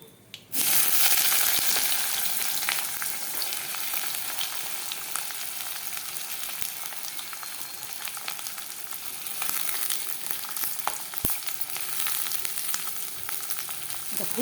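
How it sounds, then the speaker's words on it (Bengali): Chopped onion hits hot oil in a pan for a Bengali katla kalia, bursting into a loud, steady sizzle that holds for the whole stretch with occasional small clinks and no talking. "এখন আমি কুচানো পেঁয়াজটা দিয়ে দিব।"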